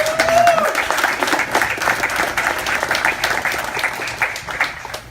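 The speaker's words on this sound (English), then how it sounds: "Please, please give them a warm round of applause." A rally crowd applauds allies in response to a Supreme Court ruling upholding the Muslim ban, steady clapping from many hands at moderate distance, with a brief voice or whistle near the start.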